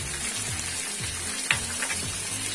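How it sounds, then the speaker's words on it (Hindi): Spices, black pepper and garlic paste sizzle and fry in hot oil for a masala fish curry, a steady close crackle with a brief stir clank midway. "चलिए अब इन सब चीजों को हम मिला लेते हैं और इसे अब हम थोड़ी देर तक 2-3 मिनट तक भुनेंगे"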